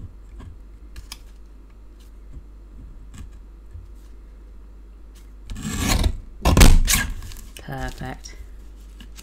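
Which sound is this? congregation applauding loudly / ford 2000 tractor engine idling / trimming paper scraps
trimming paper scraps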